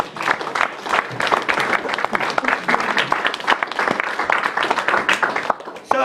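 A room of diners at a basketball club Christmas dinner claps loudly and steadily, dense applause close by with a few voices mixed in, fading briefly near the end.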